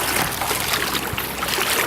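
Cold water sloshing and splashing around a photographer wading out toward shore, a continuous close broadband wash with no distinct strokes, fairly loud and alone.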